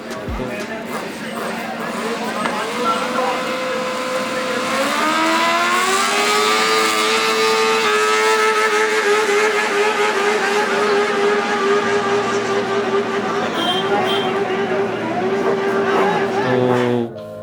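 A Kawasaki ZX-10R superbike at a valley drag run revs loud and close with its clutch slipping; the engine note climbs, then holds a high, strained drone for many seconds before easing off.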